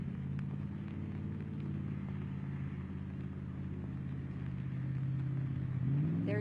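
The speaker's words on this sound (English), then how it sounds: "If you can hear that, that is the airboat firing up." Airboat engine starting up during a Texas flood rescue, a low, steady engine drone heard from a distance that swells slightly louder near the end.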